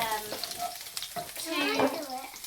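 Garlic sizzles briskly in a hot pan as it is tossed, a close crackling fry with short scraping swells from the stirring.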